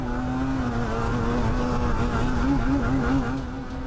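A racing quad bike on a grass motocross track holds a high, buzzing engine note at full throttle, wavering slightly in pitch, loud and steady throughout with no talk.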